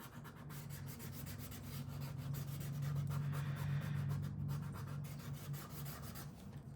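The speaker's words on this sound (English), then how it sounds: "you just want to scrub in a background of some kind." An acrylic marker scrubs a background onto Strathmore 400 watercolor sketchbook paper, giving a steady, close, soft rubbing texture that continues for several seconds with no talking.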